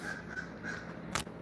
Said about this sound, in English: You hear that Crow in the background?